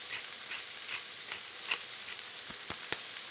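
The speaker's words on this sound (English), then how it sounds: "I'm going to saute this down until it's just soft, just cooked" Soup vegetables sauteing in a pan with salt and black pepper, giving a soft, steady sizzle with a few light stirring clicks and taps, fairly quiet and without talk.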